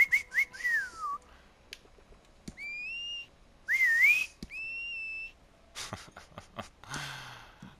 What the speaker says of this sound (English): how strong is the whistle? Good whistle or is it a crappy whistle?